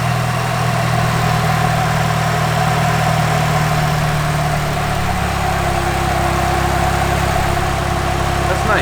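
A Mazda Miata engine idles high at about 1300 rpm, a steady, close, even hum that drones through the whole stretch, with a slight shift in pitch partway through.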